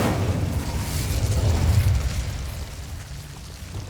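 An Incendio fire spell cast in Hogwarts Legacy, a loud whooshing burst with a deep rumbling body that swells and then slowly fades away, heard alone.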